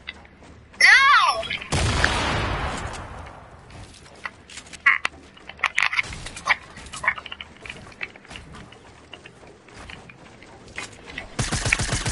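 A grenade goes off in the video game Fortnite: a short whistling throw, then a loud close blast that rumbles and fades over a couple of seconds, followed by scattered clattering game noises and rapid gunfire-like bursts.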